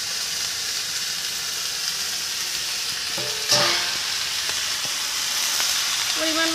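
Shrimp frying in a pan give off a loud, steady sizzle and hiss, with a brief clatter of stirring partway through and the frying continuing evenly to the end.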